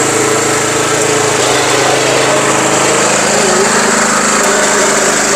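A 10 HP engine drives five cultivators at a Ludhiana farm fair, a loud steady high-pitched mechanical drone with a constant rattling hum that runs unbroken throughout.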